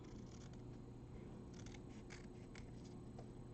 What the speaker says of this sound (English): I'm just going to trim it up for today with my scissors